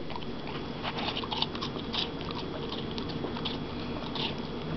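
A dog crunches on an apple, giving several sharp, close crisp bites in an irregular rhythm over a soft steady background.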